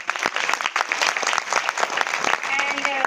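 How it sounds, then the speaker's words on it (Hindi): Enthusiastic applause from a crowd, dense overlapping claps filling the clip without a break, fairly loud and close. "आप सभी लोगों के लिए एक जोरदार तालियां हो जाए"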